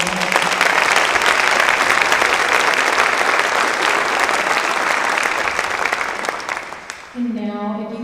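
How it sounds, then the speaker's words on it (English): An audience at a school district education celebration gives the teacher of the year finalists a round of applause, loud sustained clapping that fades near the end before a voice comes in. "give all of our finalists a round of applause"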